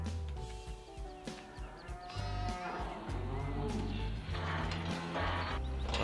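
Sheep bleating at a feed trough on a Kleinseelheim farm in Farming Simulator 15, several overlapping bleats over a constant low game hum, with a voice speaking softly beneath.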